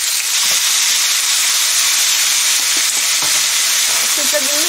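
Australian beef chuck eye roll steak gives a loud, close, continuous sizzle in a hot pan, with a few soft knocks from the turn and faint spatter as it sears.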